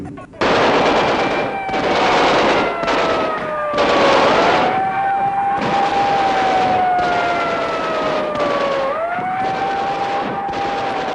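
Rapid bursts of machine-gun fire crackle loudly and continuously during an armed assault, while a wailing siren rises and falls underneath.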